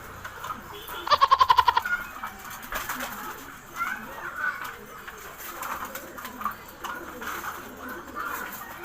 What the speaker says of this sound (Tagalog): nagpapakain po ako dito ng kalapati ko.